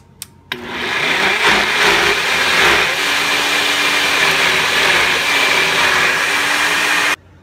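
NutriBullet blender pureeing pears, switched on with a sharp click and then whirring loudly and steadily for about seven seconds before cutting off abruptly, very close and alone.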